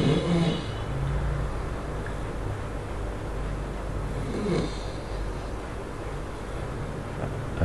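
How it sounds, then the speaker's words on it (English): A man snores while asleep, a low, rough breathing rumble that rises and falls within a steady wash of background noise, with one clearer snort-like swell midway and no talking. "Oh, I thought he was done snoring."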